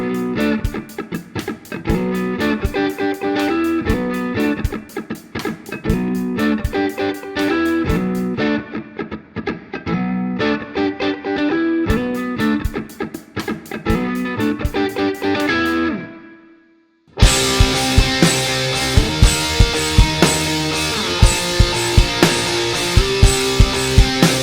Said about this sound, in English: You can really kind of hear that metal reverberation and the high frequencies that come from a natural plate reverb